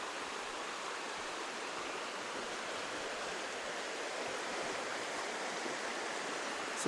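A small forest creek among giant trees rushes in a steady, unbroken flow, close by and fairly quiet, with no voices.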